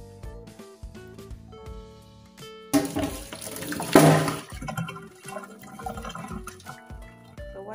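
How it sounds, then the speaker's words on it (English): Cooking water poured off wilted spinach, a steady rush of running, splashing water that surges loudly midway, heard up close over a faint tonal background with no speech. "While it is draining mga guys"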